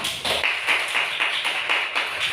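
Children in a classroom clap their hands together in a quick, rhythmic series of about ten claps, fairly close and steady with no talking over it.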